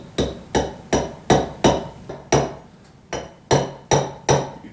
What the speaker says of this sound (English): Take our hammer. We're just going to tap in the initial amount